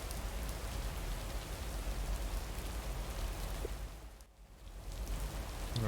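Steady rain falling on surfaces in a small-town postal simulator video game, a dense continuous hiss that dips briefly before returning at full strength.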